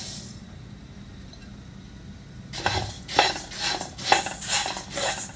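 Half a kilo of coriander seeds is dry-roasted in a pan over a low flame, and a spoon stirs them with scraping, rustling strokes. The stirring starts partway through and repeats in steady, close pulses after a quiet stretch.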